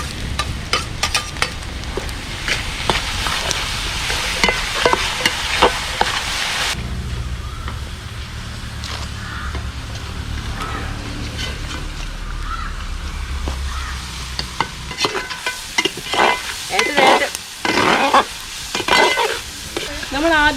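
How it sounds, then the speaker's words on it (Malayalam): Onions sautéing with salt and tomato in a pan for a Kerala catfish curry: steady close sizzling and frying with stirring scrapes, a louder crackling burst in the middle stretch, then intermittent stirring clatter toward the end. "അത് ഇത്തിരി വഴന്ന് കിട്ടുകയും ചെയ്യും ഉപ്പിടുമ്പോഴത്തേക്ക്. തക്കാളിയും കൂടിയിട്ട്"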